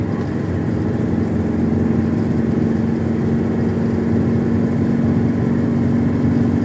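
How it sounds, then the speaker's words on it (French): A car engine under way picks up again after easing off, a steady mid-pitched drone with a tonal hum that holds evenly throughout, close and continuous with no voices. "Relance moteur."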